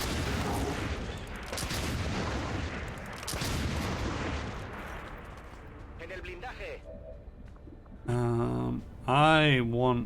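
Squad gunfire and explosive booms from the turn-based game XCOM 2: War of the Chosen. Heavy shots and blasts pile up in the first six seconds, then a game voice speaks over the fading noise.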